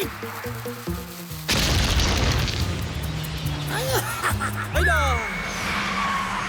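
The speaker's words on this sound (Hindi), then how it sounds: "शेर सिंह ने तो उस तरफ जाने वाला पुल ही उड़ा दिया।" Cartoon explosion as a bridge is blown up in the animated series Gattu Battu: a sudden loud, broad boom bursts in partway through and rumbles on amid music and playful sound effects.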